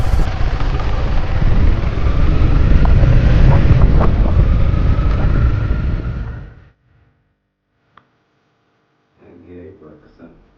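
Cold wind on a high mountain pass in Pakistan roars hard against the microphone for several seconds, then cuts off abruptly into near silence, with a faint click and brief soft rustling near the end.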